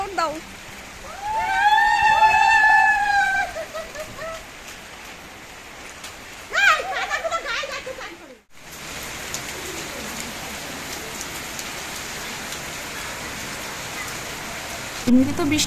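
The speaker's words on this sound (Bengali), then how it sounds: "আকাশ ভেঙে বৃষ্টি পড়ছে এত জোরে জোরে শব্দ বৃষ্টি" Heavy downpour of rain hisses steadily as broadband noise through most of the stretch, with birds calling loudly over it early on and a brief cut midway.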